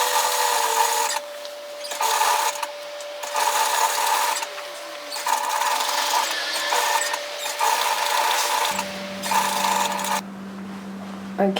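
An overlocker serging a fabric edge on a dress, rapid close mechanical stitching in repeated bursts of a few seconds each with brief slowdowns, ending with the machine stopping and a steady hum remaining.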